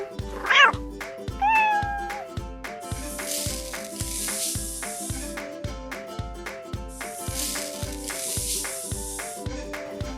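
A cat meows a couple of times over a steady, rhythmic musical backing with regular beats, fairly loud and close.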